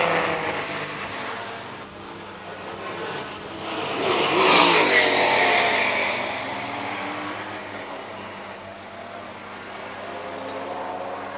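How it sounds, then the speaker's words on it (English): A Zakspeed replica Ford Escort race car drives past on a circuit during a racing meeting. The engine note is faint at first, swells to a loud pass, then drops away, with other engines droning in the distance. "that's Paul McCarthy goes past in the lovely little Zack Speed replica Escort."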